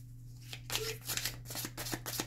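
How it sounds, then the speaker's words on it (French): Tarot cards being shuffled and drawn, a close run of quick papery riffles and soft flicks over a steady low hum, with no voices. "on va prendre ici, on va prendre 3 cartes"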